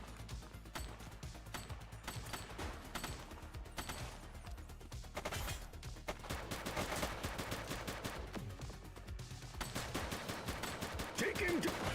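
Gunfire in The Precinct police game: quiet, rapid bursts of shots crackle steadily through the whole stretch, with the firing growing denser and louder toward the end.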